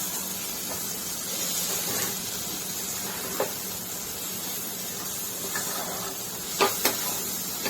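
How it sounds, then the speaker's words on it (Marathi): Coriander powder and Kitchen King masala sauté in a pan for paneer bhurji, a soft, steady hiss with a few sharp spoon scrapes and clinks, and no talking. "मसाले परतवून घ्यायचे"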